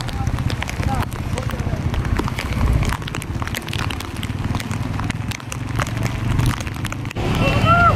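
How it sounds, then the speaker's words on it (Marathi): Heavy monsoon rain pours during a ride through Mumbai streets, a dense, loud, continuous patter and splash close around, with a voice talking over it. "पावसाचे झरे टप टप"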